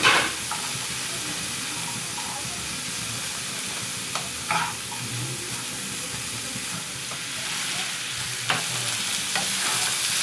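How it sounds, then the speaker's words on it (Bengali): Vegetables for khichuri, with salt added, fry in a pan under a long steady hiss, broken by occasional scrapes and clatters of stirring, close and unbroken, with no voices. "এই যে সবজিটা পুরো ভাজা হয়ে গেছে"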